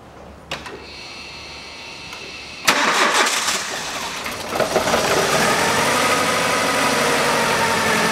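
A 2010 Kia Rio 1.4 engine is started after an oil change: a couple of clicks, then the starter cranks and the engine catches, settling into a steady, loud, close idle.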